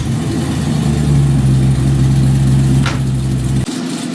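A Chevelle RS project car runs under its own power, its engine droning loud and steady close by with a low, even hum before the note drops off near the end.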